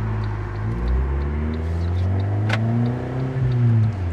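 A Fiat Punto Abarth Evo engine pulls and revs on a road test, heard from inside the car as a deep, rising growl that climbs steadily, with one sharp click midway.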